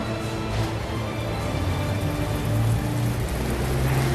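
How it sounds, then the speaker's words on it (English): Artificial rain from a large film-set rain system pours down in a dense, continuous hiss, splashing on surfaces with a low rumble underneath. "Now we're testing the enormous rain system."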